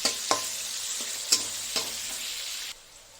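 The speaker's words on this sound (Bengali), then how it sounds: "পেঁয়াজটা আমার হাফ ভাজা হয়ে গেছে পুরো ব্রাউন হয়নি নরম হয়ে গেছে" Sliced onions frying in a pan while making a chicken curry, with a steady broad sizzle and a few sharp stirring clatters, close and fairly loud, ending in a quieter sizzle.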